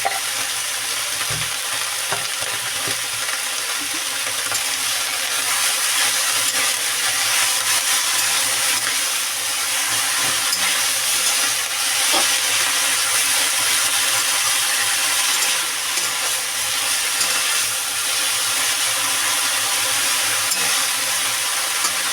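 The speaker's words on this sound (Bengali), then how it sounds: "এবার আমি এটা ভালো করে ভেজে নেবো" Mustard flowers with shrimp fry in a pan, salted and with turmeric, making a continuous loud close sizzle with faint stirring scrapes throughout, steady and unbroken, no voices.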